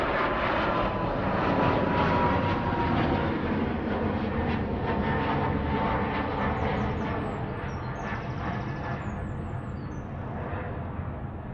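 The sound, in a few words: Ryanair Boeing 737 MAX 8 aircraft departing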